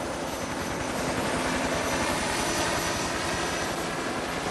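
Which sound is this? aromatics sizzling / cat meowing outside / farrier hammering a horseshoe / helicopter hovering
helicopter hovering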